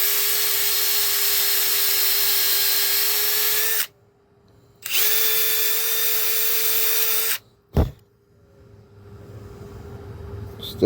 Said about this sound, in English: Step drill it out.